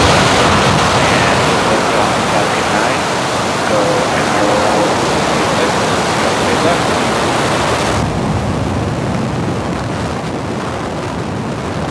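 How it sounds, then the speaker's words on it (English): A SpaceX Falcon 9 rocket lifts off from a California launch pad with a loud, steady broadband roar that fills the whole stretch, easing slightly toward the end. "Falcon 9 has successfully lifted off from Slick 4E"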